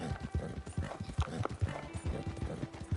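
Mustang hooves clip-clop steadily in the online Western game Red Dead Online, a quiet, even gait of rapid repeated thuds over about three seconds, with a faint whinny-like sound underneath.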